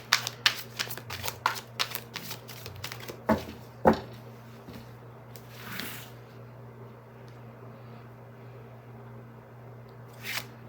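Tarot cards are riffled and shuffled in a quick burst of close, crisp flutters and slaps, then one or two soft single card draws follow. Near the end the clip settles into quiet room tone.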